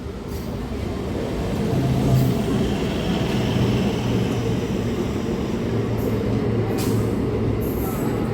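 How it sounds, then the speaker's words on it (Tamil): An eight-car Chennai to Nellore MEMU local train pulls into a Chennai Central suburban platform, a loud, steady rumble of wheels and carriages that swells and holds, with faint high squeals. "லோக்கல் ட்ரெயின் உள்ளே வர்றது, அது 8 கார் தானே"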